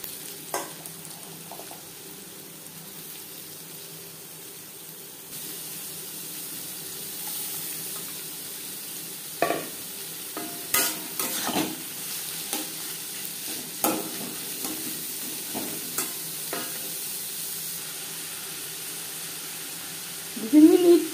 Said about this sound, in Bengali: চার চামচ রিফাইন্ড অয়েল গরম করে নিয়েছি। দিয়ে দেব পেঁয়াজ কুচি।